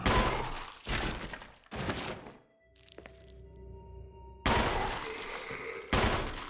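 Resident Evil 1 Remake gameplay brings several loud bursts of gunfire in quick succession, each followed by a short ringing decay. A quieter gap with faint clinks and tones separates them before more shots hit hard near the end.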